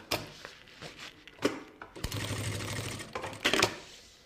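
A sewing machine stitching a short finishing seam over a folded end, with scattered handling clicks, then a continuous close mechanical whir for about a second before more clicks.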